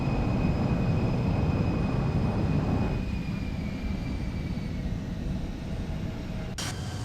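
Embraer E175 jet in X-Plane 12 touching down with thrust reversers roaring, a steady broad rumbling jet noise that eases slightly partway through, loud and continuous with no voices.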